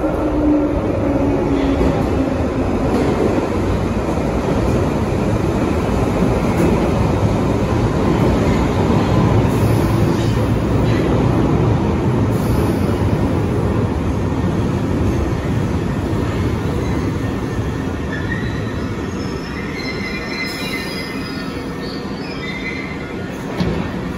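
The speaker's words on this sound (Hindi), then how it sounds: "बस ट्रेन की आवाज़ आ रही है, ट्रेन आने वाली है।" A train arriving at a London station, loud close rumbling and wheel noise filling the whole stretch, with faint high squeals and steady roar that eases slightly toward the end.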